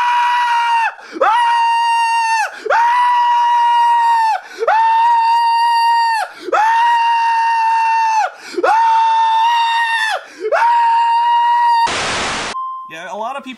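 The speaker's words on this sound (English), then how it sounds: "the infamous Wing Commander scream" A man's scream from the Wing Commander game: six long, strained, high-pitched yells in a row, each held about two seconds with short gaps between, then a sudden blast of harsh static.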